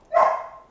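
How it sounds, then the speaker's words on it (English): A puppy gives a single short bark or yip, fairly close and alone, trailing off quickly in a quiet room. "Puppy is very, very sulky now."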